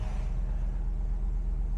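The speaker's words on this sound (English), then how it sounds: "We start the car. Sounds great." A 2017 Ford Mustang GT Premium's V8 engine idles with a deep, steady low rumble heard from inside the car, even and unbroken.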